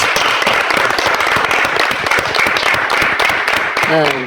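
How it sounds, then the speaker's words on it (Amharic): Audience applause at an Ethiopian education program, a dense, steady clapping filling the whole stretch at close range, with a brief voice or tone rising near the end. "አንዴ ጭብጨባ ያስፈልገናል።"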